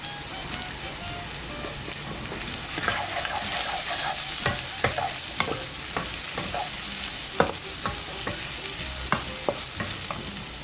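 Mushrooms stir-fried in a pan with a spatula: continuous close sizzling with repeated scraping and clinking stirs, no talking.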